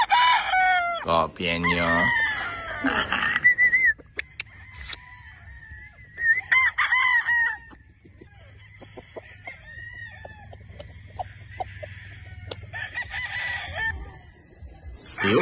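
Gamefowl roosters and broodstags of sweater and Boston crosses crow repeatedly and cluck on a farm, some calls near and loud, others farther off, with someone speaking briefly at the start.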